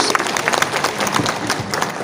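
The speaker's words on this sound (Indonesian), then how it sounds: "Tepuk tangan juga buat mereka, Bu." An audience at a talk breaks into applause, a steady, dense patter of many hands clapping for about two seconds, with a crowd murmur underneath.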